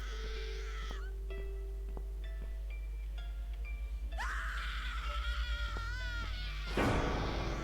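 A woman screams in fear in the horror game The Cat Lady. Several sharp, wavering cries rise over a low, steady hum, ending in a louder burst.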